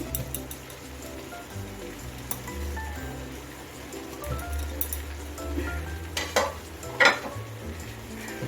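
Spice paste is stirred into banana blossom frying in a pan, giving a continuous sizzle with scraping and clinks of a utensil that grow louder and sharper near the end, with no talk.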